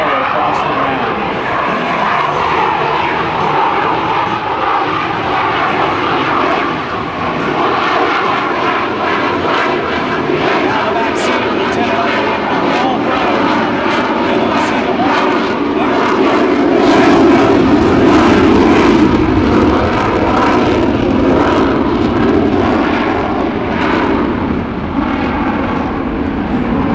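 An F/A-18F Super Hornet jet roars continuously overhead during a 2006 airshow demonstration at MCAS Miramar, a loud, steady engine rumble with a swelling pass midway, over faint crowd noise and an announcer's voice.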